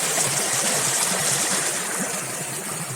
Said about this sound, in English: Water runs right up to the trail.